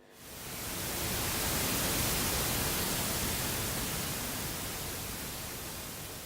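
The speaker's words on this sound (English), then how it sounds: "The sound of white noise and the grain image you have just seen are by now a part of history." Television white noise static hisses loudly and steadily, a broad uniform rush that swells in over the first second and holds for several seconds with no other sounds.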